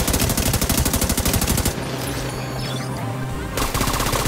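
Rapid turret gunfire in The Division 2 video game, a fast rattling burst that pauses for about two seconds under quieter game noise, then resumes loud and close.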